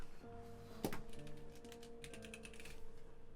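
Light clicking from a computer keyboard, somewhat distant, taps out quick uneven bursts under soft sustained background tones. No voices.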